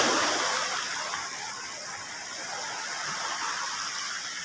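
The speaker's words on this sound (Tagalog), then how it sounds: "Malakas yung alon dito." Broad, steady surf rolls in at a surfing beach in Governor Generoso, Davao Oriental, a continuous roar of breaking waves that stays loud and close with no voices over it.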